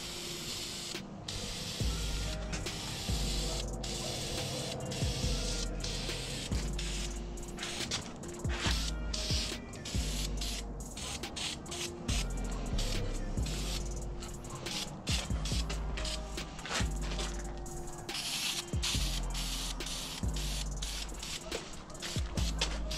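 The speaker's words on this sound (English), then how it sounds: "So I'm gonna go ahead and start spraying." An aerosol spray can applies wrinkle red paint in a soft, steady hiss broken by short pauses between passes, fairly quiet and close.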